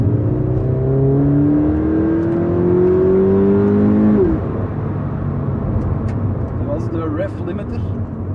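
Toyota GT86 engine revving up to its 6000 rpm rev limiter in the cabin, a rising whine that climbs steadily and cuts off abruptly at the limiter, followed by a lower droning engine hum with faint background noise.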